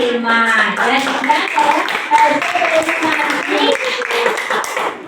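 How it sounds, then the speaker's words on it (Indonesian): Applause from a group in a classroom-style session fills the scene, steady clapping for a student group layered with voices talking and calling out over it throughout. "tepuk tangan untuk kelompok 5"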